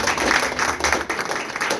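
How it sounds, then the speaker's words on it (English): An audience at a county Democratic Party gathering applauds the county chair, a short burst of dense, fairly loud clapping. "Let's give another round of applause for your county chair."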